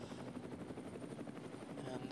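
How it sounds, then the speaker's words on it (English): A helicopter follows race cars on the Nordschleife during ADAC 24h Race qualifying, its rotor giving a fast, steady, rhythmic chop that sounds faint and distant throughout. "the helicopter trying to keep up with the fast car"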